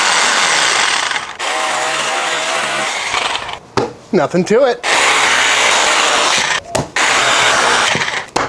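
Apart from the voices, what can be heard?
power tool cutting through pork butt shoulder bone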